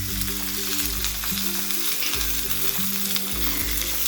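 Onions and green chillies sizzle steadily in hot oil in a pan, a close, continuous frying hiss with occasional stirring, no voices.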